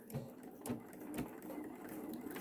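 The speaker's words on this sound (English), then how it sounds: "Then you come up to your sewing machine and you stitch that down." A sewing machine runs steadily close by, stitching a face mask, with a continuous mechanical whir and rhythmic stitching pulses, a few soft clicks over it.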